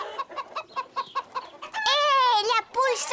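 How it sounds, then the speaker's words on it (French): Cartoon chicken clucking on a farm in a children's animated show, a run of short rhythmic clucks followed by a louder drawn-out squawk and a final cry, close and clear. "Hé, la poule s'en va!"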